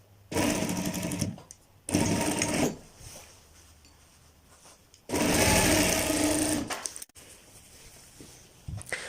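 A sewing machine runs a rough stitch over pleats on a Patiyala salwar in three close, loud bursts of rapid whirring, the last one longest, with quiet handling sounds in between.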